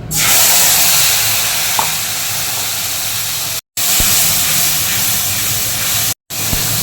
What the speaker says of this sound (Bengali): এবার তেলের মধ্যে আমি এটাকে দিয়ে দেবো